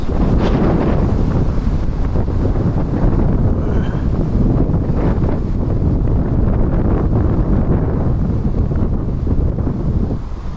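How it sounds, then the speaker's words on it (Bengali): Strong cyclone wind roars and buffets the microphone in a dense, continuous rush, with no rain to speak of and no voices. "কোনো বৃষ্টি হইতেছে না তেমন, কিন্তু প্রচন্ড বাতাস।"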